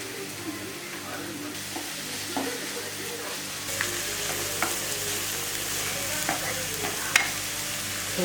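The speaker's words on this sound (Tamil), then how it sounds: "ஆயில் சூடானதும் நம்ம கட் பண்ணி வச்சுருக்கிற வெங்காயத்தை நல்லா பொன்னிறமாக வறுத்துக்கலாம்" Chopped onions fry in hot oil until golden, a steady broadband sizzle with frequent scraping stir clicks from a spatula, close and continuous throughout.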